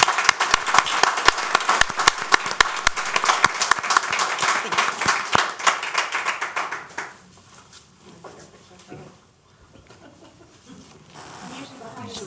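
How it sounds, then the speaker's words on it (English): Audience clapping at a county council legislative session, a loud sustained round of applause with sharp individual claps that stops abruptly partway through, leaving quiet room sound and faint murmuring. "I just want to give a round of applause to the team"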